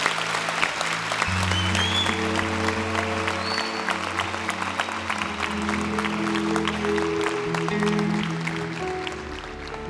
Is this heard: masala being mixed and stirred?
no